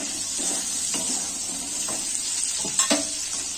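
Chopped tomato and green peas sizzle in hot oil in a pan, a steady close hiss broken by a few soft scraping stirs from a spatula.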